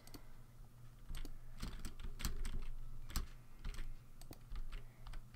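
Loud, rapid computer keyboard clicking during a Minecraft play session, keystrokes coming in dense irregular bursts up close over a low steady hum, with no voices.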